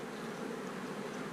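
Honey bees inside an open hive full of pollen and honey, a steady close buzzing drone that fills the whole stretch without a break.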